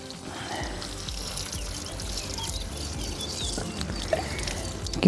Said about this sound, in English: the last job of the day is to water some of the little saplings